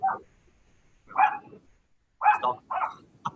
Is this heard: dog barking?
yes